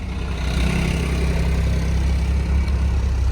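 A tractor engine runs on a highway on a snowy day, a steady low rumbling drone at constant loudness without pauses and no voices.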